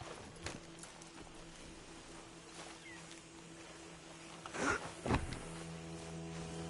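Horse hooves clopping in Red Dead Redemption 2, a few soft scattered steps followed by a couple of louder thuds near the end, over a quiet steady ambient hum.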